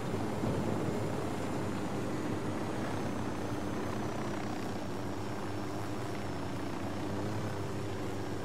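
A continuous helicopter rotor and engine drone in the video game Ghost Recon Wildlands, loud and steady with a low throbbing beat throughout.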